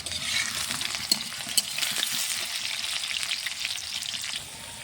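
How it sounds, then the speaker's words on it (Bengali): Potatoes frying in bubbling oil over a wood-fired bamboo-fuelled stove, a steady dense crackling sizzle with a couple of sharp pops, close and fairly loud throughout. "তেলটা টকবক করে ফুটছে।"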